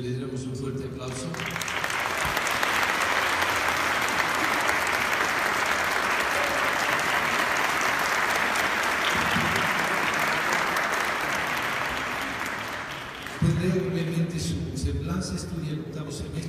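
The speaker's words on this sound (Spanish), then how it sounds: "quisiera que le diéramos un fuerte aplauso" A sustained, even burst of audience applause fills most of the span, dense and steady before fading, with a speaker's voice heard briefly at the start and again after it dies down.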